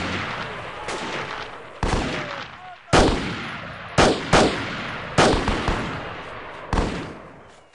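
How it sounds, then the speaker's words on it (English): Semi-automatic M4 rifle shots in the video game Delta Force: Land Warrior, several sharp separate reports spaced about a second apart over steady background game noise, with a short cluster of two near the middle. "I got the M4 on semi-mode, because if you fire this in burst, really no point"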